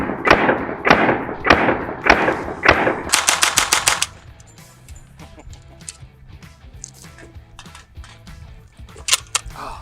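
A WW2 American machine gun firing a magazine in a loud, close string of rapid shots, first slower heavy reports and then a faster burst, followed by quieter clicks, clatter and handling noises.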